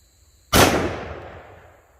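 One sharp, loud shot from a shorter-barrel XDM pistol firing 10mm Fort Scott Munitions TUI 125-grain ammunition, a sudden crack followed by a ringing decay, with no voices.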